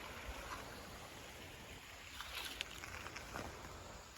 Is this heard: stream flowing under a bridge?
yes